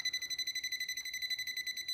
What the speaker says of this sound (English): the closer you get to it and the stronger it is, the more it beeps